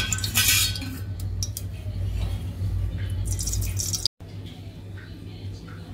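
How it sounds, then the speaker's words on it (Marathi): Four spoonfuls of oil poured into a pot for chicken biryani, with a few light metal clinks of a spoon against the pot at the start, then a quiet, steady kitchen background with a low hum. "आता मी ह्याच्यामध्ये 4 चमचे तेल टाकणार आहे।"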